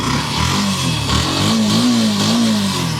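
A motorcycle engine with about 26,700 km revs up and down close by, a throaty rising and falling drone over a steady rumble.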